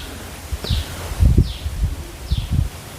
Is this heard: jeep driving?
no